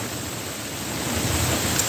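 Steady wind blowing outdoors on a windy day, a broad continuous rushing roar that swells slightly louder toward the end, with no voices present.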